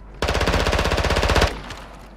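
Rapid automatic gunfire from a Call of Duty match, a loud sustained burst of about a dozen evenly spaced shots lasting over a second, then a faint tail and a couple of softer distant pops.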